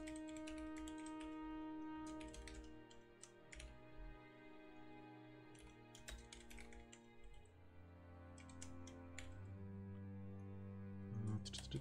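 Faint clicking keystrokes on a computer keyboard tap away in irregular bursts beneath a sustained tonal background.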